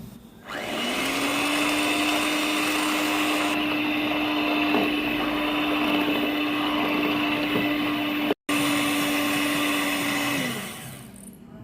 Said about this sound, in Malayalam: ഞാനിവിടെ പൊടിക്കാത്ത പഞ്ചസാര കുറച്ചായിട്ടിട്ട് നല്ല ഫ്ലഫി ആയിട്ട് അടിച്ചെടുക്കും.